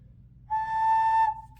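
A handmade clay whistle with a slanted air opening gives one steady, clear tone of about three quarters of a second, close and alone in a quiet room.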